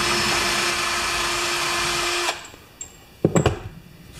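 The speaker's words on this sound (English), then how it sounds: "Now we can just use this drill and get this bolt out of here." Power drill working a rusted blade adaptor bolt loose on a Homelite Briggs engine, a loud steady whine running for about two seconds before stopping, followed by a few sharp metallic clanks and rattles.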